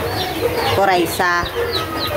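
Several chickens cluck and squawk close by in a busy, overlapping chorus, with one louder drawn-out call rising above the rest.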